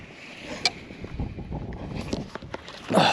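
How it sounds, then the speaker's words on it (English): Strong wind of 20 to 25 blows across the water on a post-hurricane fishing trip, a steady low rush with occasional gusts and light splashing or boat noise, and no talking. "It's really windy. It's blowing 20 to 25 for sure."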